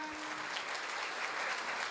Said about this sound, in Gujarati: તાળીઓ સાથે વધાવીશું.